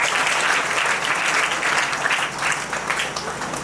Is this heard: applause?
yes